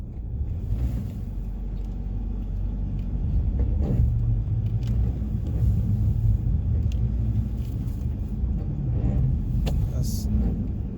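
A car creeps slowly along a snowy road after heavy overnight snowfall, its low engine rumble and tire noise steady inside the cabin, with faint talk and a GPS voice at times.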